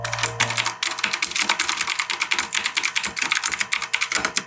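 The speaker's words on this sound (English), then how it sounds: "Let's do some ASMR typing test." Fast, steady typing on a clicky mechanical keyboard with Cherry Blue switches, a dense run of sharp, close key clicks heard alone with no talk.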